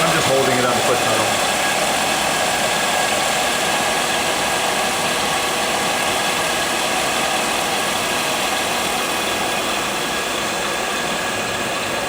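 A Sunnen EC-3500E power-stroking precision honing machine running at 1400 RPM gives a steady, loud mechanical whine and hum with a constant level throughout, and people talk over it.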